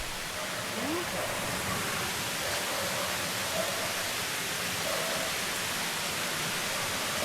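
Water pours hard at a waterfall at a secret falls swimming spot, a loud, steady broadband rush that fills the whole stretch, with faint voices now and then under the roar.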